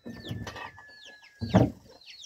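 A laying hen on a farm clucks loudly and close by in short bursts, two bunched groups of rapid clucks separated by a brief pause, with no voices.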